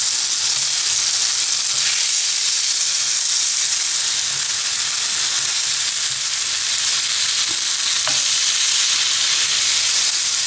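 Food browns in a frying pan with a steady, even sizzle and hiss that carries on throughout, close and fairly loud, with a faint clink now and then.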